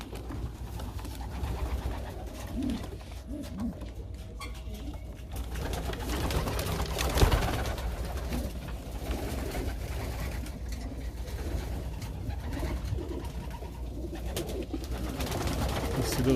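Young pigeons in a loft, at weaning age, cooing steadily under a continuous low, noisy room background for the whole stretch, with no talking.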